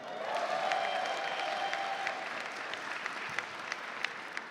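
The crowd at an alumni association gala fundraiser applauds scholarship recipients. The clapping is sustained and full, with a few sharper claps standing out near the end and a faint tone or voice in the background early on.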